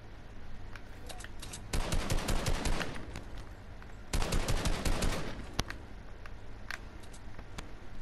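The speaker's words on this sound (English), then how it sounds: "They're literally firing at us." Rapid automatic gunfire from a video game, two loud sustained bursts of machine-gun fire separated by quieter gaps with scattered single shots, close and harsh with no talking.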